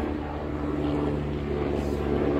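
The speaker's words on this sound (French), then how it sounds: "c'est un hélicoptère des pompiers" A firefighters' helicopter passes overhead as a steady, droning rotor and engine rumble, moderately loud and continuous with no voices.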